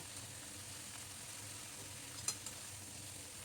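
Vegetable stalks being stirred into a mixed vegetable curry in a pan, a faint steady sizzle with a couple of brief clinks of the spoon, quiet and close.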